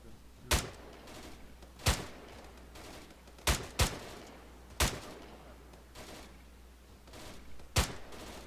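Gunfire in the military simulation game ArmA 3, with single sharp shots spaced irregularly about a second or more apart over a steady low background hum, moderately loud with no talk.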